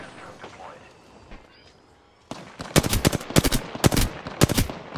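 Bursts of automatic gunfire from an Apex Legends battle, several loud rapid volleys starting midway through, preceded by quieter game ambience and faint talk.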